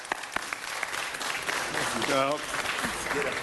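An audience at a city council meeting applauds Judge Terry Hatter, a steady spread of clapping filling the room with a voice rising through it near the end.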